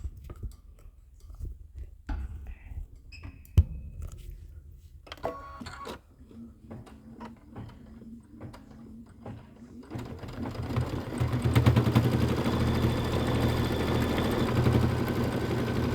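A sewing machine stitches quilting stitches on a pieced star block: sparse clicks and taps at first, then a steady, fairly loud mechanical whir that continues to the end.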